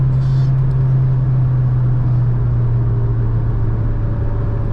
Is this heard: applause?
no